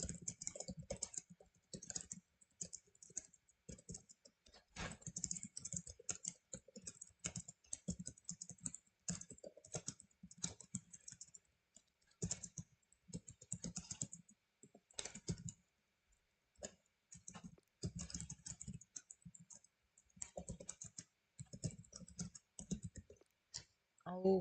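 Rapid, uneven bursts of typing on a computer keyboard run throughout, with clicks clustered in quick runs and brief pauses between them, close to the microphone.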